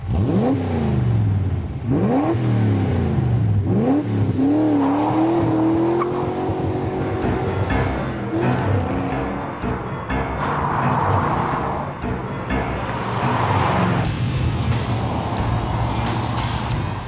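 Ford GT40 race car accelerating hard on a track: a loud engine climbing in pitch through several quick gear changes, then settling into a sustained high-speed roar with wind and road noise.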